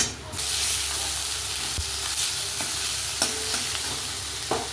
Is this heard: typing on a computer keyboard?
no